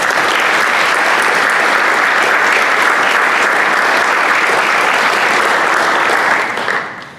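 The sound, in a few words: audience applause for law enforcement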